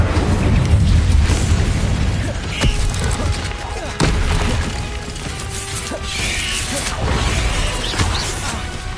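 Fire spell cast in the video game Hogwarts Legacy, heard as booming, crackling magical bursts over a continuous rumbling battle background, with sharp impacts near 2.7 and 4 seconds.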